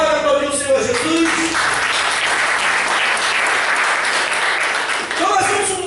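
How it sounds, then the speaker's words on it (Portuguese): A church congregation applauding during a sermon, a full, steady burst of clapping with a voice speaking briefly at the start and again as it fades. "Você pode aplaudir o Senhor Jesus?"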